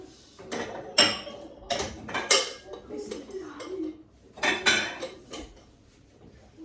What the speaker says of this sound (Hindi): चले पहले ये ड्राई कर लेते हैं फिर बर्तन धोते हैं।